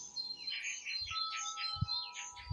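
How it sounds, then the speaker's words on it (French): Birds singing outdoors beside a vegetable garden with a new greenhouse, with repeated chirping phrases over a steady background, a faint tone and a few low thumps. "le chant des oiseaux"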